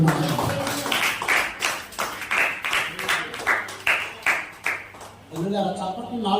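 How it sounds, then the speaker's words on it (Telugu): An audience clapping loudly to welcome a guest at a church gathering, with sustained applause bursts throughout and a voice speaking over the claps. "గట్టిగా చప్పట్లు కొడుతున్నారు"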